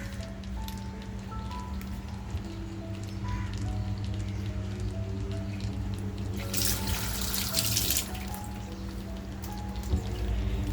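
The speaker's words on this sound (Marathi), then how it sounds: "तर हे व्यवस्थित आपल्याला असं धुवून घ्यायचं आहे." Live crabs are washed under a running kitchen tap, with a continuous splashing stream of water that swells louder partway through, plus small clinks and handling noises close by.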